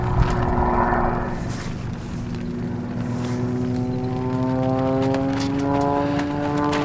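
A propeller aerobatic airplane snap-rolls during an advanced free unknown aerobatics competition, its engine a steady droning hum whose pitch climbs through the maneuver, heard from a distance and alone.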